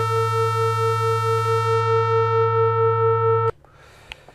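A bright, buzzy tone from a Sonicware Liven XFM synthesizer, operator 1 feeding back on itself, rich in overtones, holds steady, then cuts off abruptly, leaving faint clicks and quiet noise.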